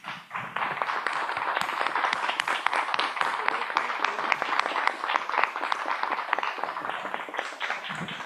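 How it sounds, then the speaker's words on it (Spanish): An audience claps in sustained, dense applause, steady and moderately loud throughout, with scattered sharper claps standing out from the crowd. "Un aplauso a todas."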